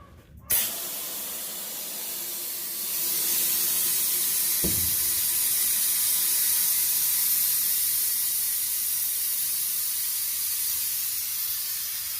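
Compressed air on an Ironbull 40-foot trailer's air-ride suspension releases as the lift axle drops, a sharp onset followed by a loud, steady hiss that swells after a few seconds and holds close and constant.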